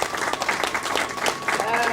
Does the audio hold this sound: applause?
yes